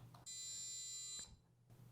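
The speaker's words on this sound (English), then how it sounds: "next thing we have under the sand timer is the Taboo buzzer" Taboo board game's battery-powered electronic buzzer is pressed once, giving a harsh, loud, steady buzz that lasts about a second before cutting off into quiet.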